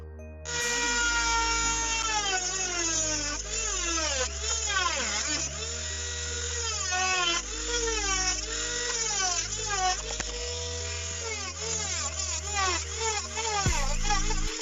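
A small high-speed rotary tool whines as it cuts around the speaker opening of a hoverboard casing, its pitch rising and dropping repeatedly as it bites into the plastic, loud and close, pausing briefly between passes.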